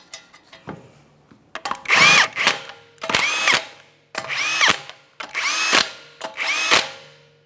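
Power tool spinning down 21mm lug nuts on a 2014-2018 Mazda 3 rear wheel, five separate loud whirring bursts at a steady rhythm with short pauses between, close up and with no talking.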